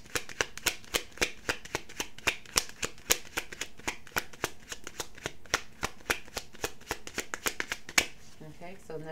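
A deck of cards is shuffled for a card reading, producing a long run of quick rhythmic riffling snaps, close and crisp, followed by a brief softer rustle at the end.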